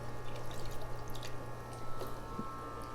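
Water runs and splashes as aggressive plant roots are rinsed, a soft continuous trickle with a few drips over a steady low hum.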